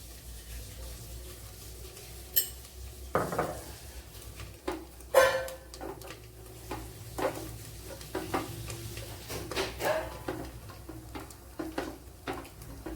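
Potatoes with turmeric powder and salt being stirred and mixed in a pan for a potato varuval, with scraping, clinking spoon strokes and a soft sizzle, no talking.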